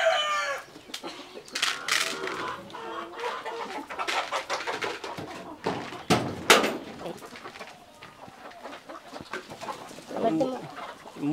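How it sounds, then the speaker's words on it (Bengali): Many eight-month-old Tiger chickens on a poultry farm cluck, squawk and crow in a busy, overlapping chorus, with occasional louder close calls and faint voices in the background. "মুরগি তো বিশাল, অনেক অনেক মুরগি আপনাদের।"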